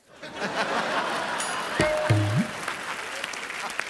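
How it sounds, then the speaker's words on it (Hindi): Steady crowd clapping runs throughout, with a brief tonal sound effect and a few chuckles mixed in. "ये ताली बजा रहे हैं"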